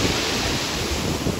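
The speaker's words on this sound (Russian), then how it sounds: "Волна может стукнуть" Storm waves on the Sochi shore churn and wash in a continuous loud surge, buffeted by wind noise on the microphone, with no voices.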